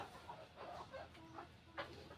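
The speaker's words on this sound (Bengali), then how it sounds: "এই যে মুরগিগুলা" Desi chickens on a small farm give soft, scattered clucks and short throaty calls, faint and fairly close over a low background hum.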